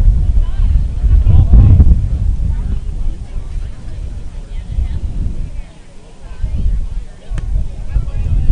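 Wind gusts across an outdoor rugby championship match, Denton against Corpus Christi, rumbling low and steady against the microphone, with a stronger buffet early on and a lull near the end.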